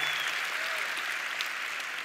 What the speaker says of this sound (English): let this thunderous applause be a statement of our gratitude